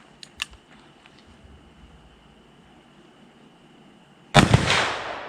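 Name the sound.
gunshots from Colt Anaconda .44 Magnum revolver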